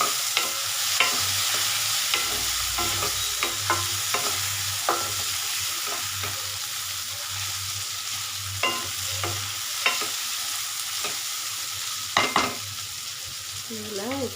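Bitter gourd sautéing in an open pan, a steady close sizzle and fry with repeated scrapes and knocks of a spoon stirring through it; no talk.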